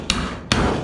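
Two sharp hammer blows on a chisel chopping off rusty metal on a Ford Bronco, close and loud, spaced about half a second apart with no talk.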